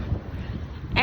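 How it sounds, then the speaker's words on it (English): Strong outdoor wind roars steadily against the microphone during a windstorm, a constant low buffeting rumble across the whole moment with a brief brighter gust or sound near the end. "Oh, it's very windy, as you can clearly see by my hair."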